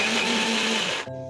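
A mixer grinder blends a mango mixture into a smooth paste, its loud steady whine running continuously before the motor cuts off abruptly near the end, leaving a fading hum.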